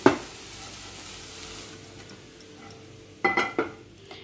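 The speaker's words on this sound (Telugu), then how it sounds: "ఇప్పుడు ఇక్కడ కాకరకాయ అనేది బాగా ఫ్రై అయింది" Bitter gourd fries in a pan with a steady, soft sizzle throughout, broken by a sharp metallic clank at the start and a couple of stirring scrapes near the end.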